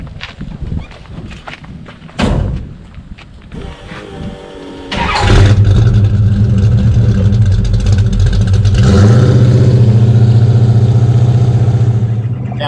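A big-block 1965 Dodge Coronet 500 with a 431 stroker engine cranks over after some clunks and handling noises, fires up loudly and settles into a heavy, lumpy idle, then revs up and holds a higher roar, close and alone.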